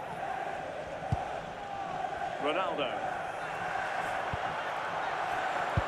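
Stadium crowd noise in the football video game FC Mobile, a steady broad roar of fans with a brief swell, heard under continuous match commentary.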